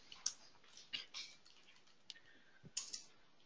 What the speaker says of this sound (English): So I started typing here